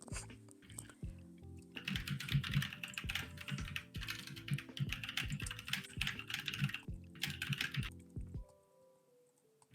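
Fast, steady typing on a mechanical keyboard with brown switches, a dense patter of close, soft-tactile keystrokes that runs for several seconds before easing off near the end.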